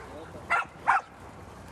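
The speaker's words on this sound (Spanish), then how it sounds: "hay muchos perros" Several dogs at a greyhound hare-coursing outing bark twice in quick succession, short sharp yelps standing out over low background murmur and voices.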